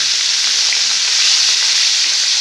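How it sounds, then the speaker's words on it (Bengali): Salted, turmeric-rubbed fish fries in hot oil in a kadai wok, a loud, steady hiss of sizzling with no pauses and no voices. "এবার মাছটাকে আমি ভেজে নিচ্ছি, কড়াই তেল দিয়ে দিয়েছি।"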